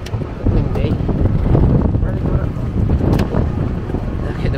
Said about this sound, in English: Oh, it's a bit breezy. Windy.